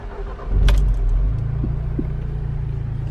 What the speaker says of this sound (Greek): Πάμε να το βάλουμε όμως και μπρος, πριν το πάω βόλτα